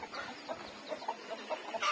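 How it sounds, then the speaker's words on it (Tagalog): Chickens and chicks cluck in a backyard coop at a family home, short soft clucks and peeps scattered across the moment at moderate distance, with no talking. "Ang galing, may mga sisiw siya, oh."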